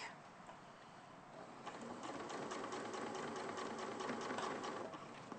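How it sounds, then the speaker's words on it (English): Sewing machine stitching quilting fabric along the edge under the presser foot, a quiet continuous rapid needle chatter that picks up and steadies partway through, no voices. "So it's just keeping the presser foot running down the edge of the fabric."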